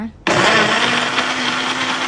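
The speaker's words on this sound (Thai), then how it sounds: "เรานำทั้งหมดมาปั่นให้ละเอียดนะคะ" A kitchen blender purees a strawberry ice cream base of fresh milk, sugar and cornstarch, starting abruptly with a loud, steady motor whir that holds without pause to the end.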